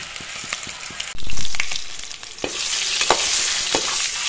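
Eggs fry in hot oil in a pan and are stirred; a loud burst of sizzling flares up, then settles into a steady crackle with scattered scraping knocks of the spatula, close and unaccompanied by speech.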